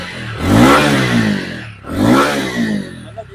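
A TVS Ronin motorcycle engine revs twice, each rise a loud, close, deep bassy exhaust roar that swells and falls back, with a short dip between the two pulls.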